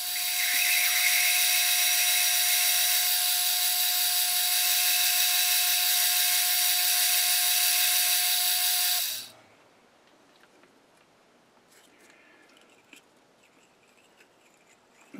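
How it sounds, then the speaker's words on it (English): Steady high whine of a 31/64 drill bit boring and reaming a hole on a metal lathe, loud and continuous for about nine seconds before cutting off to near silence with faint shop sounds. "Now I'll just take a 31/64 and then we'll try and ream it."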